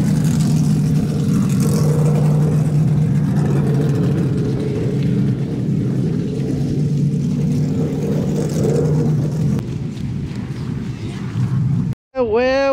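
Off-road trucks racing two at a time at a Memorial Day mud event in the South, engines roaring and revving continuously in a heavy, sustained drone that swells and eases, with a brief cutoff near the end.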